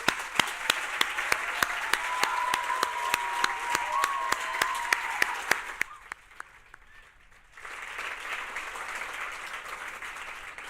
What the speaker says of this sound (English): please give yourselves a huge, huge round of applause.